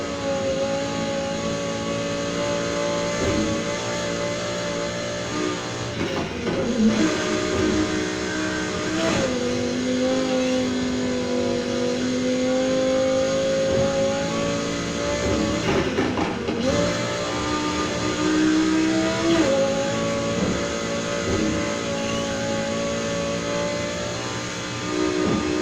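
A 2019 Audi R8 V10 Performance in Need for Speed Heat gives a loud, continuous engine drone, with pitch climbing through the gears and brief dips at the shifts. No voices are heard.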